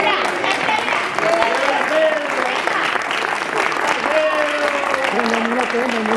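A crowd claps steadily and densely throughout, with voices talking and calling over the applause.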